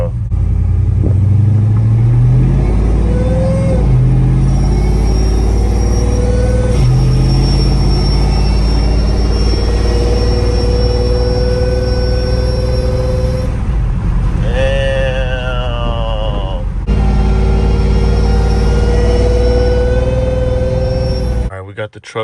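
A 2013 Dodge Ram single cab truck with a swapped-in TRX supercharger drives off, its loud engine note rising and falling through gear changes with a high supercharger whine layered over the deep rumble.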